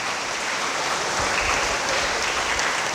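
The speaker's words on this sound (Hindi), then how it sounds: "हम सबों की ओर से हम धन्यवाद स्वरूप ताली मारते हुए उन्हें बधाई देंगे" Sustained, dense applause from an audience at a church novena gathering, steady and fairly loud throughout with no speech over it.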